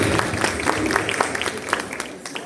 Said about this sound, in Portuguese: gostaram uma salva de palmas para ela